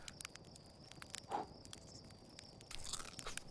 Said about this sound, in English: Very, very crunchy.